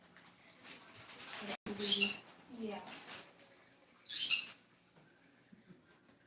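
Pet birds give two sharp, high calls, a few seconds apart, over quiet room sound while a person speaks softly nearby.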